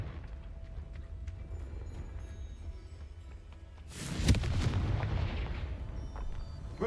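Confringo fire spell blasting in the video game Hogwarts Legacy: a sudden loud fiery burst with a rumbling boom that lingers and fades slowly over a low ambient game background.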